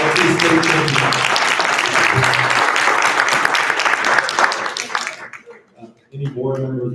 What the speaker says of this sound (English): Clap it up again for our 2020 state champions.